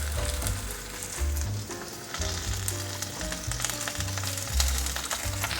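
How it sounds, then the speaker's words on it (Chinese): Tofu skin and cabbage stir-fried in a small wok for two or three servings, with a steady close sizzle and frying crackle throughout and faint scraping of stirring. "放入豆腐包，继续翻炒，大约略炒一下，放入高丽菜"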